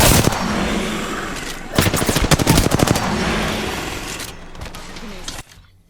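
Dense automatic gunfire rattles in rapid bursts during an Apex Legends fight, loud and close, then cuts off abruptly at the end.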